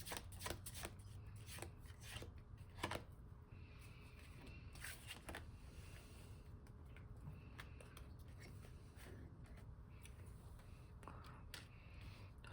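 Tarot cards are shuffled close up to draw a final card, a steady run of soft riffling and flicking with brief sharper snaps, faint overall, with no voices.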